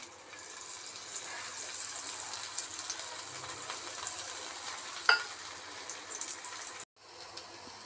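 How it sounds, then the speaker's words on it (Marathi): Dahi dhapate, a flatbread, roasts in a little oil on a tawa with a soft, steady sizzle. It stays fairly faint, with a brief clink near the middle and a short break just before the end. "आता दोन्ही बाजूने खरपूस भाजून घेते"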